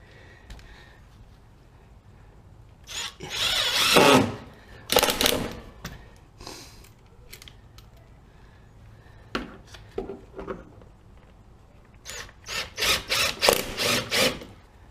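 Self-tapping screws being driven into a Mudbuster fender flare on a 2018 RZR S4 900 with a power driver: several separate whirring bursts with quiet pauses between them, ending in a run of short rapid pulses.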